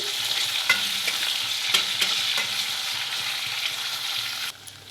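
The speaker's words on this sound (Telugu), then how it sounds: "పోపులు కూడా బాగా ఫ్రై అవ్వాలి" Onions and tempering spices fry in a pan for sambar with drumstick leaves, giving a steady close sizzle with scattered stirring scrapes and ticks that cuts off near the end.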